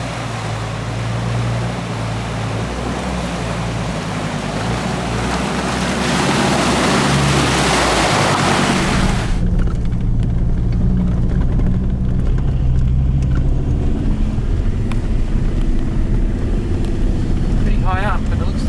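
Vehicle driving through a river water crossing along the McAllister River track, engine rumble and a rush of splashing water for the first half, then a quieter steady engine drone inside the cab.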